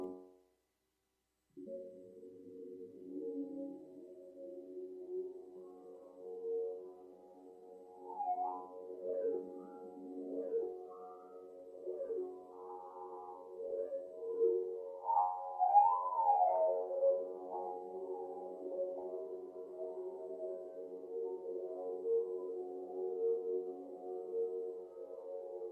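Reversed modular synth sample from a Eurorack setup, straight off the mixer with slapback echo: a sustained, tonal drone with swelling, warbling flanged harmonics that rise and fall over about twenty-five seconds, alone and steady after a brief silent start.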